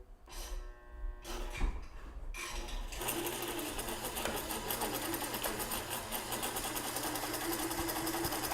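A sewing machine stitches a hem in a beginner's straight-line practice, starting with a few short bursts before settling into a steady, continuous close whir that runs to the end.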